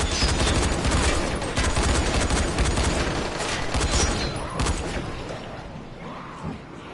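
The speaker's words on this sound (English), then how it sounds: "No, they're already shooting." Dense gunfire in Dying Light: The Following, overlapping shots crackling in a heavy continuous barrage that gradually thins and fades toward the end.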